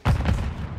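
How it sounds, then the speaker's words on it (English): A grenade blast in Call of Duty: Modern Warfare 2: one sudden loud, deep boom with a short rumbling tail. "Grenade out!"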